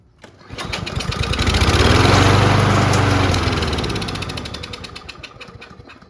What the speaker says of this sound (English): Giving a little shot of carb cleaner to get it going and see if it'll catch with the gas.